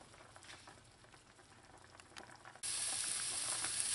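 Garlic frying gently in oil gives a low, steady, faint sizzle, and it swells into a brighter, louder hiss for the last second or so.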